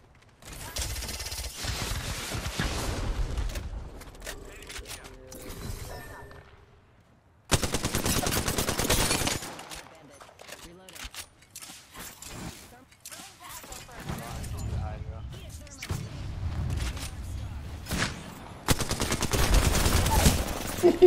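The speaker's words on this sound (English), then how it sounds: "Opening fire." Bursts of automatic gunfire from a competitive shooter video game, loud rapid volleys that stop and restart several times, with a player talking over the shooting.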